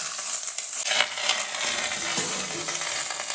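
Seared cabbage wedges sizzling in a hot pan, a steady crackling fizz with small pops and scraping, no voices.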